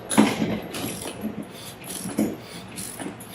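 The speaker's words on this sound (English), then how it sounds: "using a 1-inch socket, using our torque wrench" A torque wrench with a 1-inch socket ratchets as it loosens a bolt on a metal Wilden pump laid on its side, giving a few close, clicking pulls spaced roughly a second apart.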